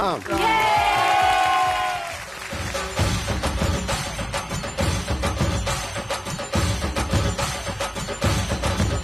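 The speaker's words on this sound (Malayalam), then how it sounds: "ഒരു കൈയടി കൊടുത്തേ" An audience applauding and cheering at a live entertainment show, a dense sustained clatter of many clapping hands that swells after a loud opening burst.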